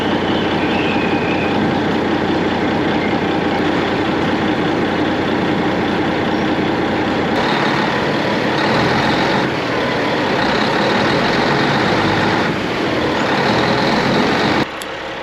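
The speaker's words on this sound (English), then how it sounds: "So that's the truck with all the dried distiller's grain in it" A heavy truck loaded with dried distiller's grain idles close by on a farm, giving a loud, steady, low diesel rumble that goes on without a break and eases slightly near the end.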